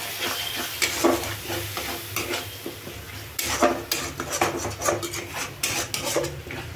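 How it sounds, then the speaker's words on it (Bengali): Masala sizzling and frying in a pan with chicken and onion for chicken kosa, spoon stirring and scraping against the pan in steady repeated strokes, close and fairly loud with no talking. "এর মধ্যে আমি একটু পানি অ্যাড করব যাতে মশলাটা পুড়ে নেবে"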